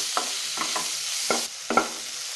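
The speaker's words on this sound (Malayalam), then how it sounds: "തക്കാളി ചേർത്ത് 1 മിനിറ്റ് നന്നായിട്ട് വഴറ്റണം." Tomatoes sautéing in hot oil in a pan for a prawn and green peas curry, a steady sizzle broken by four or five scraping stirs of a spoon, close and fairly loud, with no talking.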